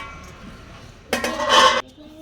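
Vegetable biryani pot opened: after a quiet stretch, a brief metallic clatter of a lid and utensils against the pot lasts under a second, loud and close, then fades back to near silence.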